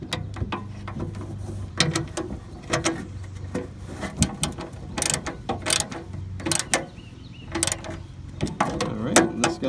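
Wrench or ratchet snugging down the mounting bolts on a riding lawn mower starter solenoid: quiet bursts of quick metallic ratchet clicks and clinks separated by short pauses, close by, with a faint low hum underneath.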